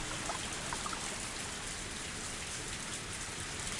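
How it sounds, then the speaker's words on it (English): Steady rain falls in the Higurashi When They Cry video game, a dense, even hiss of drops with no breaks and no voices. "As the rain came down on me"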